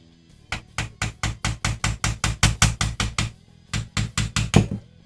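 A steady series of about twenty firm knocks, evenly spaced hammer taps fitting a part while mounting a Harris bipod and scope on an M14 rifle, with a short pause before a final few.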